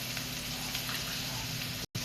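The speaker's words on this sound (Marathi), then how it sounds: "आता ह्याच्यात मी घालते थोडंसं पाणी." Water is poured from close by into a pan of cluster bean curry, a steady splashing, gushing wash that runs unbroken and then cuts out for an instant near the end.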